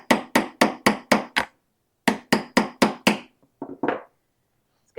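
A hammer strikes a Mandalorian armor shoulder piece during trimming. It comes in two quick runs of about five or six sharp, evenly spaced blows with a short pause between them, then a few lighter, irregular taps, close and loud with no talk.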